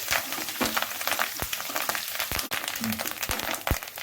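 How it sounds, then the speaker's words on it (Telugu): Ginger garlic paste and curry leaves fry in a pan for onion fried rice, giving a close crackling sizzle broken by several sharp pops and spatters, with no talking. "అల్లం వెల్లుల్లి పేస్ట్ వేగాక కరివేపాకు వేసుకోవాలి"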